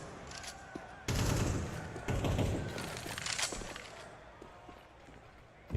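Rapid gunfire in Counter-Strike 2 during a major tournament match, with bursts of shots and sharp impacts under a steady game background.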